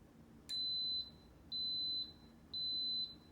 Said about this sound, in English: as soon as you hear the 3 beeps, that means that it's starting to cook.